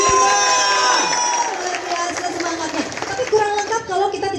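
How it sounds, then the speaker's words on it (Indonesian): An outdoor crowd at an event on the UPG 1945 campus yard in Kupang cheers and shouts, with scattered clapping, whoops and voices mingling loudly throughout. "Tepuk tangan untuk UPG"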